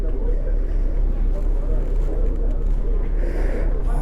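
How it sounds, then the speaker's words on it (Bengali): A container-laden ship passing on the river at Diamond Harbour, heard as a loud, steady low engine rumble mixed with wind buffeting and a voice speaking nearby. "ওই যে দেখো একটা জাহাজ যাচ্ছে কন্টেনার ভর্তি"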